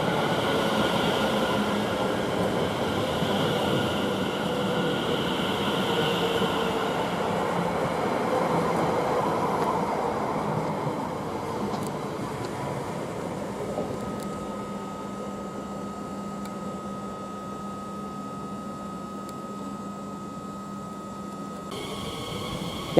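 A Class 720 electric train, unit 720-121, runs on the Liverpool Street to Southend Victoria service at Shenfield station. It gives a loud, steady rumble with wheel noise, then eases into a quieter hum with a faint tone.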